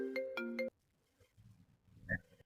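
A mobile phone ringtone plays a short, loud run of bright repeated tones, then cuts off into quiet room noise with a few faint knocks.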